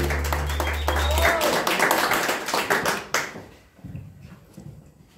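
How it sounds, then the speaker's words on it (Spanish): Guests at a birthday party for Adriana, with a mariachi band present, clap in a lively burst of applause that fades, with voices talking over it. "ese aplauso bien bonito para ella"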